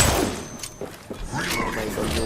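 Gunfire in Apex Legends, with a short cluster of rapid shots and impacts under a player's voice and game callouts.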